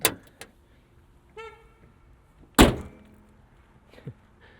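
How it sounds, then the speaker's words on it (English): A Kia Soul in cold weather gives a few short clicks and a brief electronic chirp, then a loud, sharp door thunk, followed by a softer mechanical click near the end. "Little locking noise from the Kia Soul there."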